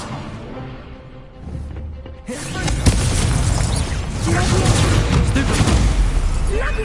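An Incendio fire spell in the Hogwarts Legacy video game erupts into a loud, sustained roaring blast after a quieter stretch, rumbling and crackling for several seconds with a little talk over it.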